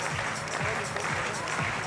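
Crowd applauding and cheering at a sport climbing competition at the 2022 European Championships in Munich, a steady dense wash of clapping under a commentator's voice.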